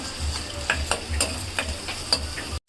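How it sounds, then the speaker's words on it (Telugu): Chopped onions sizzle in hot oil in a pan while a spoon scrapes and stirs in a rough rhythm, close up, before cutting off abruptly. "మనం కట్ చేసుకున్న ఆనియన్స్ ముక్కల్ని ఫ్రై చేయాలి"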